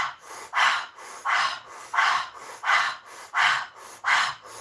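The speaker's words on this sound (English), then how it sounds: "I breathe a little louder so you can hear me." Loud, deliberate breathing during a stress-relief breathwork exercise: seven strong, evenly spaced breath cycles with a loud rushing exhale and a softer inhale between, close to the mic and without talk.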